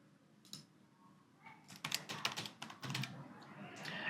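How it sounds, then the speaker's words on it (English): Quiet typing on a computer keyboard, scattered soft clicks at first building into quick irregular bursts of keystrokes, close and faint against low room noise. "So let me just type in the name."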